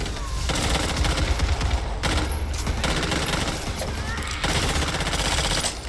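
Rapid assault rifle gunfire in the zombie shooter Back 4 Blood, loud sustained bursts broken by brief pauses, with dense clattering shots filling the whole stretch and no talking over it.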